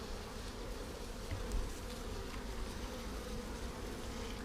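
A swarm of bees buzzes steadily and faintly, a continuous hum of many wings with no break, soft and diffuse as if heard from a short distance.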